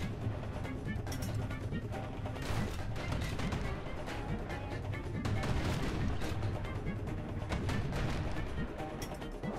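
A musket fires repeatedly in the video game Bastion, with sharp shots packed into a dense, loud stretch of combat noise while a voice talks over it throughout.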